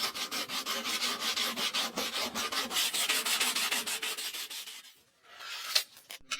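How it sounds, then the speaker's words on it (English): Wooden handle scales for a rusty machete being sanded by hand in a restoration workshop: rapid, steady back-and-forth scrubbing strokes, close and loud, then a brief pause and a few final rubs. "he first sands them to remove any defects on the scales"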